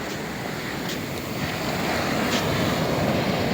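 Sea surf and wind along the coast: a steady loud wash of breaking waves with constant wind rumble buffeting the microphone, no voices.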